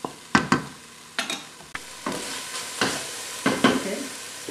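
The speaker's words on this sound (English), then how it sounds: "we're going to brown the ground beef" Ground beef sizzles in a hot pan while being stirred, short scraping strokes recurring every second or so over a steady frying hiss, close and fairly loud.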